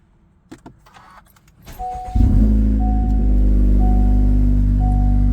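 Acura Integra A-spec fitted with a new MBRP exhaust: keys jangle and a door clicks, then the engine cranks and catches into a deep, loud, steady idle rumble.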